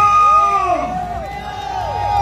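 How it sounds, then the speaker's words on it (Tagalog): A large outdoor political rally crowd at a Filipino campaign event cheers and shouts continuously, with whoops and babble rising and falling and no clear single voice. "Palakpakan may kasama sigawan at isigawan, Pilipino!"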